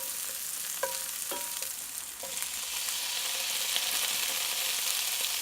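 Tomatoes tossed into a hot pan with broccoli and zucchini, sizzling in a steady hiss that swells after a few clinks of a utensil against the pan.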